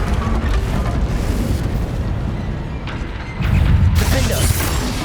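Confringo spell blast in the video game Hogwarts Legacy, a dense rumbling burst of magical impact noise that swells louder near the end, heavy and close amid game effects.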